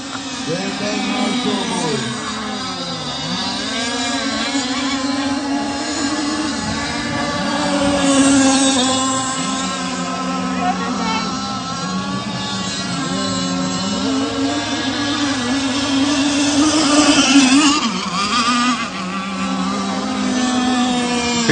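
An offshore racing powerboat, an old Speedcraft, cruises along, its engine a steady loud drone with wavering pitch that swells around the middle and again near the end, with faint voices underneath.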